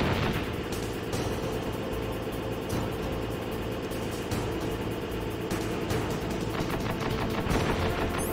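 Machine gun turret in Metal Gear Solid firing steady rapid automatic bursts, a loud continuous rattle layered over dense game noise and a droning background.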